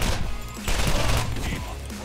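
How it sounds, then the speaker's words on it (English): Vladof shotgun blasts from the Borderlands video game, several loud booming shots in quick bursts with crashing impacts, fairly close and dense, with game sounds filling the gaps. "I then start to kill all the bandits with my new Vladof shotgun"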